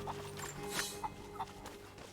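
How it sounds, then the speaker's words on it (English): Chickens in Rise of the Tomb Raider give a few faint, brief clucks spaced across the moment, set against a steady game soundscape with a low sustained musical drone. "Catch chickens and throw them into the chicken pen."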